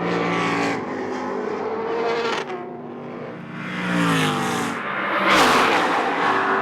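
Race cars of the 2005 Rolex Sports Car Series at VIR scream at full speed up a hill, engines roaring loud and sustained. One car surges closer with a rising howl near the end.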